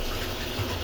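Water pours from a mug into a pot of spiced liver and potato curry, a short, steady rush close by with no talking.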